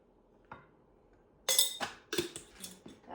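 Fermented dosa batter being stirred with salt inside a metal vessel: a few sharp clinks and scraping knocks, close and fairly quiet, arriving in uneven bursts toward the end.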